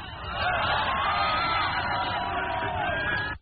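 Large outdoor spectator crowd at the Challenger space shuttle launch, a steady roar of cheering and shouting voices filling the air continuously at close range, with scattered whoops rising above the mass.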